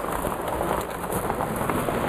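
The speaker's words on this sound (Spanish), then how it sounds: "Ya llegó la lluvia." Rain pattering steadily during a thunderstorm at a fishing spot in Los Herreras, Nuevo León, a dense, continuous wash of drops striking nearby surfaces with no talk.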